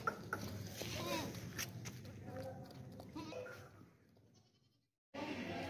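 Bleating from a heavy, fat male goat at a Pakistani livestock sale ahead of Qurbani, mixed with other farm animal calls and close crowd chatter, ending in a brief drop to near silence before the noise returns.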